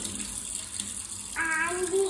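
A glass rinsed under a running kitchen tap gives a steady, moderately close flow of water, with a short voice-like tone rising over it near the end.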